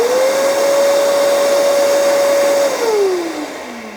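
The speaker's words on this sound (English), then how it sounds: "you may have heard that vacuum turn on" A shop vacuum wired to a momentary foot pedal beside a miter saw roars loudly at a steady pitch, then winds down as the motor slows and its tone falls, with no talking.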